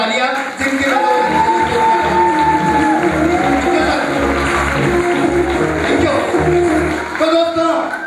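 A crowd cheers, whoops and shouts for Mr. Khem Thapa at a Safe Shop business gathering, a loud, dense roar that runs nearly the whole time with voices mixed through it.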